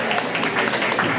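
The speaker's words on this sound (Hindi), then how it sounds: "इनके लिए जोरदार ताली।" Audience applause at a Mother's Day celebration, a steady wash of clapping from a crowd honouring guests standing up, continuous and fairly loud throughout.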